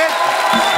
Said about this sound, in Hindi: जोरदार तालियां हार्डी के लिए